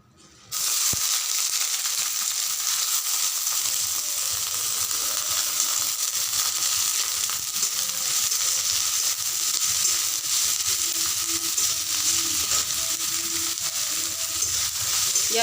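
Sliced onions hit a hot pan and sizzle for an omelette, with a sudden onset, then a steady bright hiss that holds loud and even, and occasional scraping and clicking from stirring.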